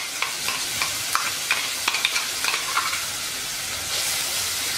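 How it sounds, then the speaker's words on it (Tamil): A ground paste of ginger, garlic, onion and green chilli sautés in hot oil for vegetable biryani, with a loud continuous sizzle and frequent sharp spoon clicks and scrapes early on, then a smoother hiss at the end. "இந்த விழுதை நல்லா பச்சை வாடை போற வரைக்கும் நம்ம வந்து இதை வதக்க போறோம்"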